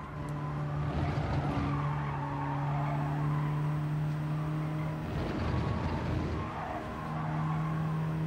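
A Peugeot race car in Gran Turismo 7 drones steadily at high revs close by, its engine tone holding level with brief surges and tyre noise mid-run, with no voices.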